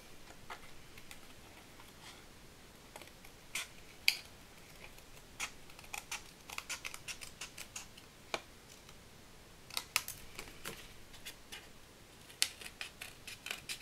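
Scissors snipping through paper while trimming a stamped army-themed USA greeting card, a quiet series of short crisp cuts in irregular bursts, close and alone with no talking.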